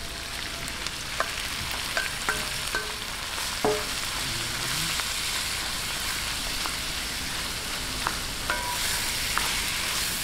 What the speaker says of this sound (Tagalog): Atin lang pong gisahin mabuti hanggang mag-light brown yung ating giniling na baka